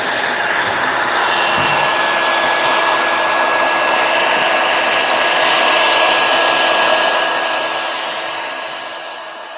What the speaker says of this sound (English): Let me hit it with a heat gun, dry it out real quick